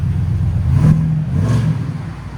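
A 2021 Ford F-250 with a 6.2L V8 and a Borla ProXS exhaust, valves closed, revs twice in quick succession, a fairly loud but muted, deep engine swell heard close by with no talk over it.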